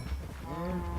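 Cows mooing in a Minecraft video game, one drawn-out low moo rising under a short burst of game noise, loud and close.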